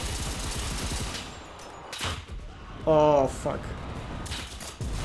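Automatic rifle fire from an AVT in the WWII shooter Enlisted, set in a Soviet battle for Berlin: sharp, loud bursts of shots, with a voice exclaiming briefly nearby.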